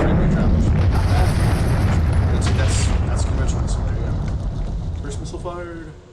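A missile launches in the Minecraft ICBM mod, a loud, broad rumbling roar that holds for several seconds and then fades, with someone talking over it.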